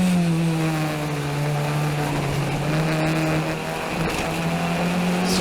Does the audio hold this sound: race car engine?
yes